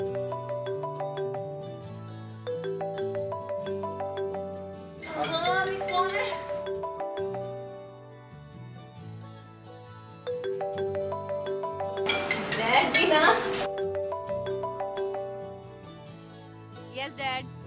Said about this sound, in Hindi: मैं मेंढी को फोन करता हूँ।